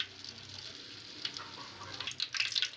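Whole cinnamon and cloves sizzle in hot oil in a kadai, a steady low crackle that swells into brighter popping spatters near the end, close and alone.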